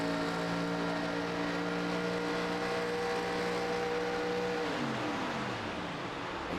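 Race car engine on an oval track coasting with a steady whirring drone, its pitch sliding downward near the end as the driver lifts off, heard alone without commentary.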